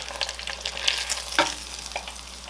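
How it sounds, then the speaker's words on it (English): Ravioli frying in hot oil, a loud, steady crackling sizzle that runs throughout with small popping bursts and no voices. "I'm going to go ahead and fry these off"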